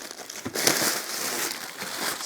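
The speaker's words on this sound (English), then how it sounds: "when you open the package, you get a bunch of bubble wrap, some promotional information." Bubble wrap packaging crinkles and crackles as a Logitech K270 wireless keyboard is unboxed, a busy close rustle that swells after a brief pause and continues steadily throughout.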